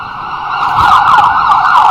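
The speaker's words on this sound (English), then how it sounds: "there's the ambulance" An ambulance siren wails loudly and steadily nearby, its pitch sweeping up and down over faint traffic rumble, with no talking.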